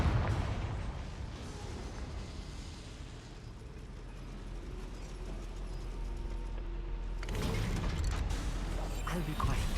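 A lift mechanism in Hogwarts Legacy creaks and grinds in a steady mechanical drone, swelling louder toward the end, with a voice talking faintly at times.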